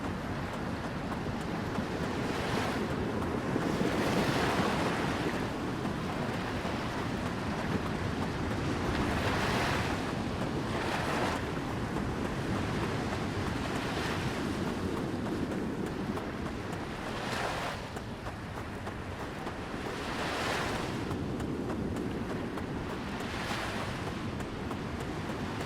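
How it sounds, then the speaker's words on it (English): Ocean waves rolling onto a coast in the video game Titan Chaser, with wind blowing across; steady surf noise swells in repeated surges over the whole stretch, no voices. "I wish we could hear the ocean in Bright City as good as here."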